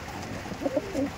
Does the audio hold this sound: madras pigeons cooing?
yes